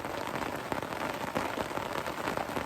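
Steady rain patters on a poncho shelter during a rainstorm, a dense, even hiss of drops striking the fabric at close range with no pauses or voices.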